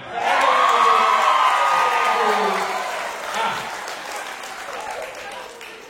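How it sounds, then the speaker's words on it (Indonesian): Audience at a Quran quiz competition in Maluku bursts into loud, close applause with some cheering, which peaks early and then slowly fades over several seconds. "Mohon agar sementara peserta menjawab jangan tepuk tangan."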